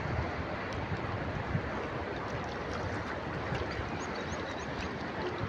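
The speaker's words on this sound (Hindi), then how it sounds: "ओ उधर लहरें बहुत ही तेज़ आ रही है" Floodwater from a swollen river surging with strong waves, a dense, steady rushing roar that stays loud and close throughout, with no voices over it.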